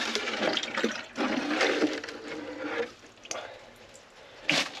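Water pours and splashes as a container is refilled inside a greenhouse, a steady broadband rush in bursts with short pauses and a brief sharper splash near the end.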